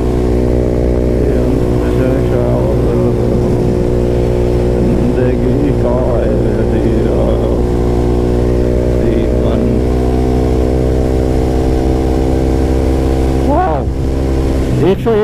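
Motorcycle cruising at roughly 100 km/h on a clean highway, its engine droning steadily and loudly throughout with constant wind rush, a voice talking over it.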